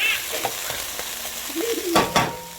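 Onions and vegetables coated in red curry paste sizzle on high heat in an Instant Pot, a brief close crackle with a couple of louder spatters.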